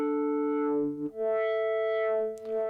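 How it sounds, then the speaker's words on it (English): A synth patch in the Vital software synthesizer plays held, buzzy harmonic notes whose pitch steps between two levels while a cycling LFO modulates them, loud and clean with brief dips in level. "So now this is kind of like the same as the envelope, instead it cycles round and round and round."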